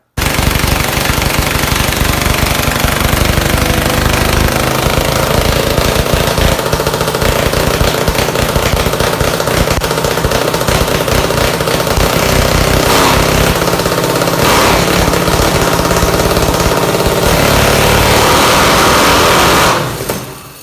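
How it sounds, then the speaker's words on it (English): A boosted engine with a fuel bowl closing off, running loud and rough at steady high revs for most of the stretch before abruptly cutting out at the end. "I opened it up past quarter throttle and it immediately shut off"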